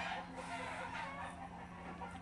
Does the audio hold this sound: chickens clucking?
yes